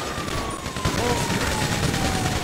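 Rapid bursts of gunfire during a shootout in Grand Theft Auto 5, dense and continuous with a wailing police siren running through it and shouted voices on top.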